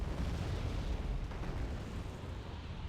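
A tank being hit in the Wargame: AirLand Battle strategy game gives a low, rumbling explosion that sustains as a heavy roar, moderately faint and without talk.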